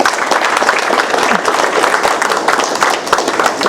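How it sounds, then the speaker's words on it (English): An audience bursts into applause for a woman being honoured at a community gathering, a dense, steady wash of many hands clapping close by that holds level throughout. "So a round of applause for her."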